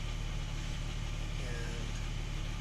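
A warm Porsche 996 Turbo engine, misfiring on cylinders 3 and 6, idles with a steady, even drone close by, with no talk.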